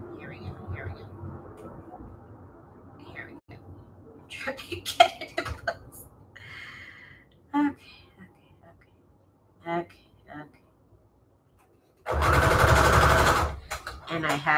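A sewing machine runs a zigzag stitch on scraps for junk journal embellishments, giving one dense, steady burst of stitching near the end after quiet rustling and soft whispered voices.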